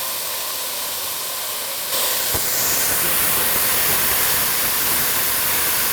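Onions frying in a pan on medium heat for mujaddara give a loud, steady sizzle and hiss that jumps louder about two seconds in and then keeps hissing without a break.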